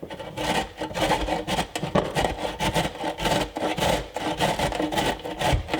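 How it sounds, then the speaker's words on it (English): Cauliflower rubbed over a medium-mesh grater, a steady run of rough, rasping scrapes in quick repeated strokes, close and fairly loud with no talking. "I've got my grater. I'm gonna use the like medium mesh and just grate."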